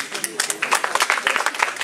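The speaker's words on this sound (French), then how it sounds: "On peut t'applaudir, on va t'applaudir" Applause from a gathered audience at a 2015 community art salon, a dense patter of many hands clapping at close range, mixed with voices speaking over it.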